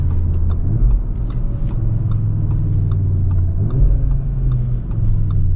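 A 2026 Audi RS3 with a turbocharged engine pulls away and accelerates, a loud, close low rumble that rises and shifts in pitch as the car builds speed.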